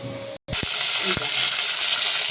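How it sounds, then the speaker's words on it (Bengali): Vegetables fry in hot oil tempered with cumin seeds and dried red chilli, giving a loud, steady sizzle after a brief silent gap, with a couple of soft stirring knocks in the pan. "জিরে শুকনো লঙ্কাকে ফোড়ন দিয়ে আমি এই সবজিগুলি দিয়ে দিলাম। এটা একটু ভাজা হয়ে আসবে"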